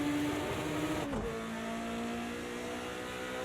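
A BMW 2002 race car in Project Cars 2 at Bathurst revs hard and accelerates, a steady engine drone with a rising pitch that dips briefly at a gear change and then climbs again, loud and close, with no talk.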